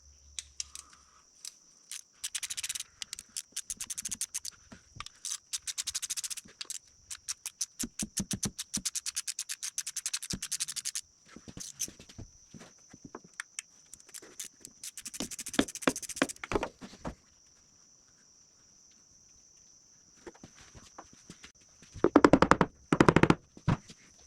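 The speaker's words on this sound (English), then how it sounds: "I'm gonna go ahead and take this valve cover here off" Valve cover bolts on a 1965 Ford Galaxie 352 engine being removed with a ratchet, rapid bursts of dense clicking with short pauses and clinks of handling between them, close up.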